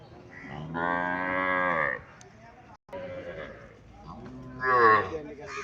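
Native dairy cows at a Cumilla cattle market low repeatedly, three close, drawn-out moos separated by short pauses, with market voices faintly underneath.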